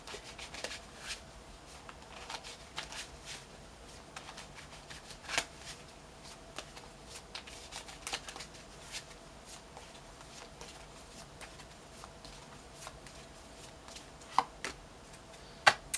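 Tarot cards being shuffled and handled on a table, a soft papery riffling with occasional sharper slaps and taps, quiet and close, no voices.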